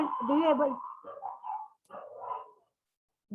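Dogs outside react as a dog-catching van arrives, giving a few close barks and whimpering yips in short bursts separated by silent gaps.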